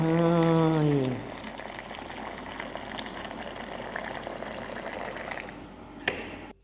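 A steady, close bubbling and rushing of boiling water fills the clip after a brief tonal hum fades out at the start.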